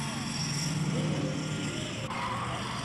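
A race car drives straight toward the camera at a racing event, its engine roar and skidding tires loud and steady, with a commentator's voice running over it.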